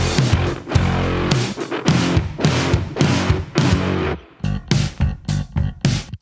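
Layered, distorted and tightly gated bass from a rock mix, locked with punchy drums in a steady groove, a run of loud clipped hits ending in shorter staccato stabs, close and dense with no voices.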